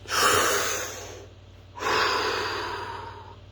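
Two slow, deep breaths during a meditation exercise: a long audible inhale followed by a pause and another long breath, close and soft in an otherwise quiet room.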